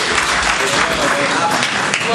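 Applause at a poetry gathering (mushaira) welcoming poet Dr. Waseem Rashid, a loud, close wash of clapping with some crowd murmur mixed in, steady for the whole short stretch.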